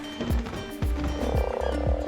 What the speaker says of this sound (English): These frogs are great.